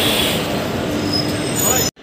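Passenger train 03423 from Bhagalpur bound for Haridwar rolls in with a loud continuous rumble, faint metallic wheel squeals and a whining tone, then cuts off abruptly at the end.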